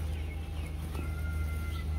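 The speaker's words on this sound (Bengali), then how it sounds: "এই যে মুরগি নিয়ে এসে পড়ছি, একদম দেশি মুরগি।" Native village chickens cluck near and clear over a heavy steady low hum, with a few short calls through the two seconds.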